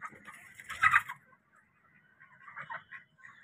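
Chickens cluck and murmur nearby, with one louder squawking burst early on, followed by quieter scattered clucks.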